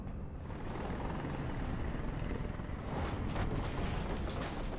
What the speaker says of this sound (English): Get that helicopter out of here.